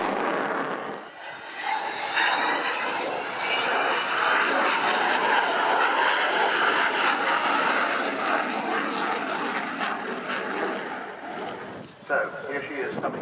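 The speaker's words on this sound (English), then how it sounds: "perhaps the most popular aircraft in the UK, Avro Vulcan" An Avro Vulcan XH558 jet bomber flies a display at the Royal International Air Tattoo 2015, its engines making a loud, sustained roar that swells and holds throughout the pass, with a commentator speaking over it.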